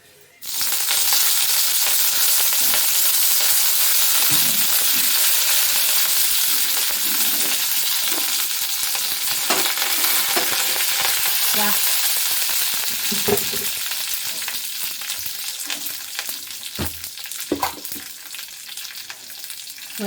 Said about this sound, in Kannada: ಸ್ವಲ್ಪ ಸಾಸಿವೆ, ಇದ್ರ ಜೊತೆಗೆ ಸ್ವಲ್ಪ ಕರಿಬೇವು. ಚಟಪಟ ಅಂದ ತಕ್ಷಣ ಕರಿಬೇವು ಹಾಕ್ಕೊಳ್ಳೋಣ.